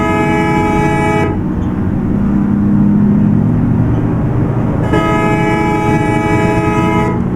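Train horn sounds from a bus-driving video game set on a Bangladesh map road near Rajshahi: a loud, steady two-part horn blast, then a rumbling passing train, then the horn again, with no talk.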